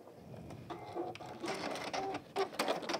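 A sewing machine running off the end of a quarter-inch seam on a Tilda goose toy, a few short bursts of stitching in close succession, fairly quiet and close.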